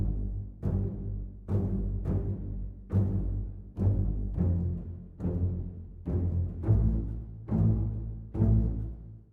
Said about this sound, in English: now I have a bass and a cello playing the bass line from the piano reduction,